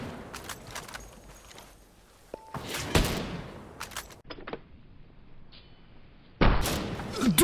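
Gunfire in the shooter game Ghost Recon Frontline comes as scattered sharp shots and thuds at varying distance, a few louder bursts standing out from quieter stretches.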